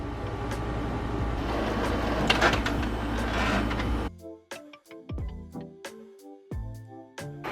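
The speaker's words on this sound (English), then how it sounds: "And now we can print." A printer running off sheets of photo glossy paper gives a continuous mechanical whir, then switches to a series of irregular clicks, clunks and short motor whines as the paper feeds through.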